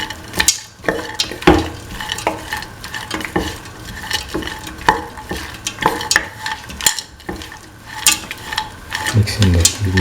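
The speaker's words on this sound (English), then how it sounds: "Mix in the kidney beans thoroughly." A spoon stirs kidney beans into a snake gourd and coconut milk stew in a pan, with repeated scraping and clinking strokes over a soft, steady sizzle of cooking.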